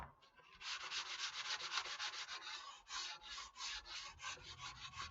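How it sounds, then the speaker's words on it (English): Steady rhythmic hand sanding across the edges of a foam board, a dry, close scratchy rubbing that repeats in quick strokes, fairly quiet and with no talking. "I'm gonna hand sand the edges here, because I'm just feathering"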